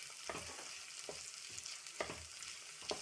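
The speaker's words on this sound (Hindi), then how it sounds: "शिमला मिर्च को भी अच्छे से सौटे कर लेंगे" Capsicum cubes and carrots sautéing in a pan for paneer fried rice, giving a steady close sizzle broken by four soft scraping stirs at uneven intervals, with no voices.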